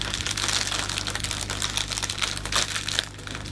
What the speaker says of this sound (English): we can then take the cellophane around